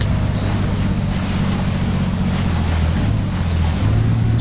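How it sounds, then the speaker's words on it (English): An off-road truck in the SpinTires game pushes through water, giving a constant loud rushing wash of churned waves over a low engine drone, with no talk. "As you can see, we're making a bunch of waves."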